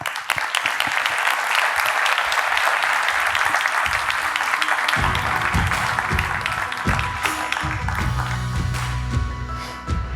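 An audience at a main conference session on effective enforcement applauds steadily and loudly to welcome speakers onto the stage. The clapping is dense and sustained, and faint background noise and voices come in toward the end.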